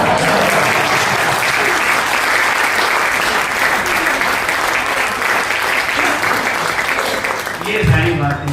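Loud, continuous applause from a large crowd at a shayari poetry event, clapping densely for several seconds before a voice briefly cuts in near the end.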